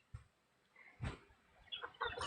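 Chickens clucking in short, scattered bursts while being fed, close and moderately loud, with quiet pauses between the clucks.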